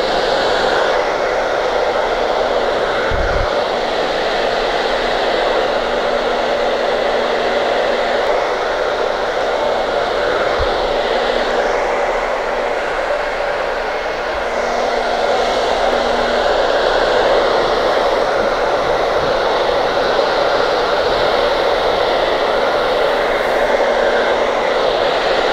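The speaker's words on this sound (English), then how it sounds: "Blow drying is so boring." A handheld hair dryer blows steadily on hair at a salon, a loud continuous airy whoosh with no talk, its pitch shifting slightly as the dryer moves around the head.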